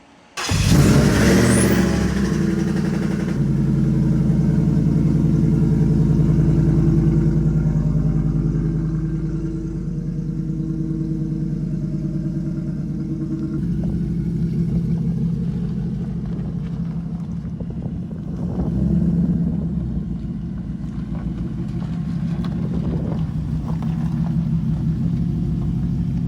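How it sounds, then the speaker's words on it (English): A Ford SVT Lightning pickup truck with a swapped Coyote V8 engine starts up with a loud roar, then settles into a deep, steady idle rumble with a few brief revs, close by and without talk. "about to take a ride in a Coyote swapped Lightning"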